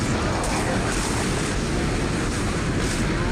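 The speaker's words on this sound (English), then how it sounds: "Test firing shuttle engine." A shuttle engine test-fires in the Dead Space video game as a loud, steady, broadband roar that fills the scene without letup.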